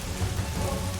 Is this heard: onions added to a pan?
no